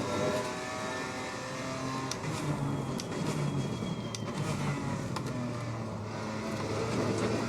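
BMW M4 GT4 race car in Assetto Corsa Competizione on the Suzuka circuit, a steady engine drone that rises and falls with revs and a few brief gear-shift clicks, heard alone at moderate loudness.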